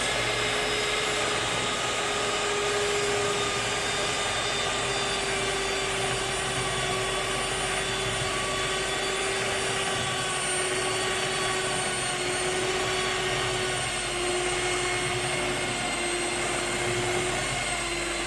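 A loud electric stand mixer kneads bread dough with a constant whining motor drone that holds steady throughout, with no other sounds.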